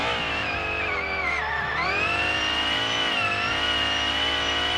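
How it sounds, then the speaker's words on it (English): A race car engine in a racing video game screams at high revs, loud and continuous, the pitch dipping briefly then climbing again. "the sound of this car is bonkers, and I love it"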